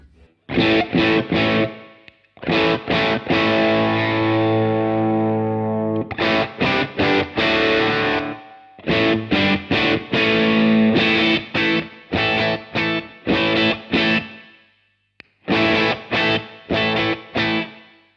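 Electric guitar through a Thurston Drive overdrive pedal with its warmth control turned down, playing loud, distorted strummed chords and short choppy bursts with brief pauses between phrases, no voices.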